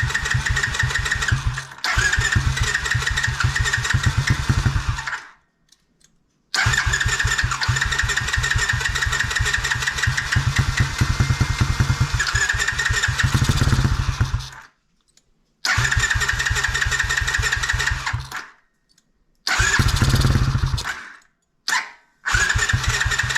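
A Tao Tao DB10 dirt bike engine being started on choke: loud, close bursts of rough running that catch and cut out several times, with short silences between the attempts.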